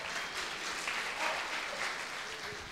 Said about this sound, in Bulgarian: Не знам, що ръкопляскате.